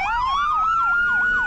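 An ambulance siren on East Long Avenue in Gastonia wails loud and close, its pitch sweeping up and down in a fast repeating yelp over a steady tone, with faint road noise beneath.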